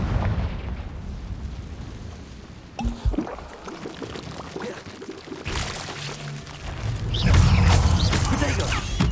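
In the game Hogwarts Legacy, the Confringo spell goes off as a sequence of explosive bursts. Booming, crackling blasts arrive at different points and swell loudly toward the end, with shuffling game sounds between them and a voice briefly heard.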